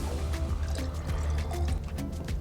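Aviation fuel sample drained from a light aircraft onto a concrete apron, a steady continuous pour with a low splashing rumble, close and fairly loud throughout, no talking.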